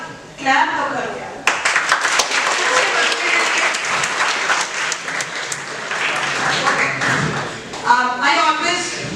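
An audience breaks into applause, a dense patter of many hands clapping that carries on steadily for several seconds, with a voice talking over it near the start and again at the end.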